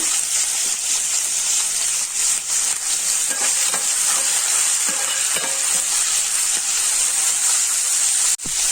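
Cumin, mustard seeds and onions fry in a pan while being stirred, producing a loud, continuous close-up sizzle and hiss with faint scraping, and no voices.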